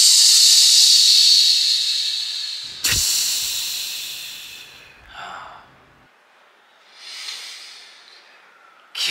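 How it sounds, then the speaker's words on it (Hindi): Masala-stuffed eggplant frying in plenty of oil, a loud, close hiss of sizzling that fades, flares again with a sharp crackle, then softens into a few quieter sizzling swells. "बैंगन में मसाला भर के उसे मस्त तेल में फ्राई करती है"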